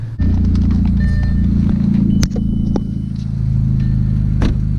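A car fitted with a widebody kit drives along, a close, loud, steady engine rumble with some road noise and a couple of brief clunks.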